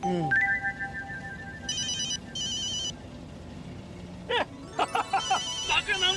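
A phone ringtone plays in repeated electronic bursts, fairly loud and close, with people talking over and around it.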